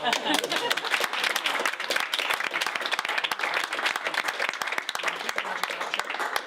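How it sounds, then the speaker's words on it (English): Sustained applause from a sizable audience, dense rapid clapping that continues steadily throughout at a moderate distance. "I'll leave to a thunderous round of applause."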